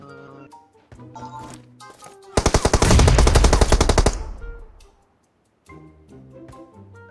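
Loud automatic gunfire in a shooting video game rips out as one dense rapid burst of nearly two seconds, with a player talking before and after it.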